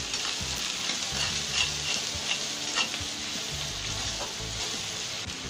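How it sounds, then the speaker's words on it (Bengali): Onions fry in a pan for a mustard-paste bhola fish curry. A constant close sizzle runs throughout, with light stirring scrapes and soft knocks now and then. No one speaks. "এবার আমি 1 মিনিট পেঁয়াজগুলো ভেজে নেব।"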